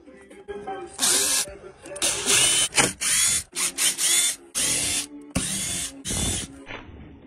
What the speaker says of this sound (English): What I'll do now, I'll just sand that flat.